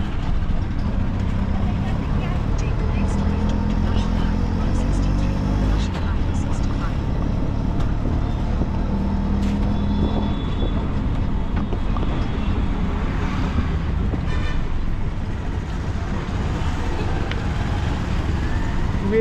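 An auto rickshaw ride through Hyderabad traffic: a continuous rumbling engine, wind buffeting and street noise, with voices talking over it.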